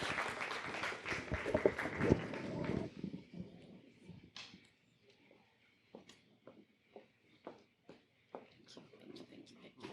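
A round of applause for a woman coming up to the stage at a community event, the clapping dense in the first few seconds, then thinning to scattered claps and shuffling as talk murmurs in the room.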